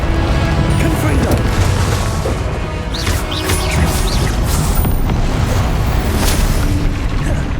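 Confringo spell explosions in Hogwarts Legacy on Xbox: heavy booming blasts and crashing debris roll continuously over a rumbling battle din, loud and close, with some bright magical sparkle on top.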